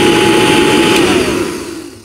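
A Royal 801 upright vacuum cleaner runs with its plate removed, giving a loud, steady motor whine and airflow roar that starts to drop in pitch and fade near the end as it winds down.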